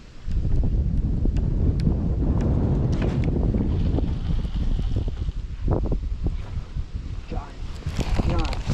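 Steady wind buffets the microphone outdoors on a fishing boat during a tournament, a continuous loud rumble throughout, with people talking over it.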